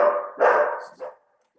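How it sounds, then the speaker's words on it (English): A dog barks three times in quick succession, close and loud, the last bark shorter and softer, then silence. "Sorry for the bark."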